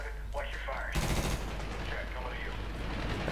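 A gunfight in the video game Medal of Honor crackles with bursts of rapid gunfire, some shots close and heavy, others more distant, over a steady low rumble.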